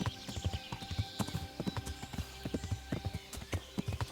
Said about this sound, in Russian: Что-то меня тут на лошади на буераках подкидывает